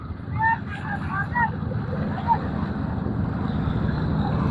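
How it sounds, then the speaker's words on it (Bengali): A wooden country boat passing on a river, its low rumble and lapping water steady under wind, with voices chattering faintly in the background. "এই যে আরেকটা নৌকা যাইতেছে"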